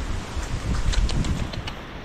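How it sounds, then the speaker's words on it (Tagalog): Typhoon wind buffets and rushes in broadband bursts, with rustling and flapping of torn plastic sheeting, moderately loud and close to the microphone. "sobrang lakas ng hangin"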